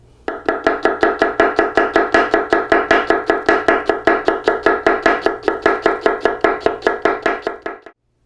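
A knife slices a shallot into slivers on a cutting board, giving a steady run of about thirty quick, even chops at close range, with no talk.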